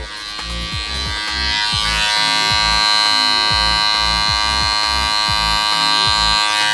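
Electric hair clippers buzz loudly and close up while cutting a drop fade, a steady motor hum broken by rhythmic, repeated strokes through the hair.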